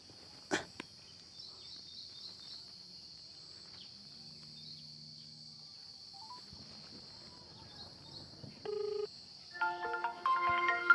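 A faint high whine hums steadily until an electronic phone ringtone chirps in near the end, bright repeating tones growing louder.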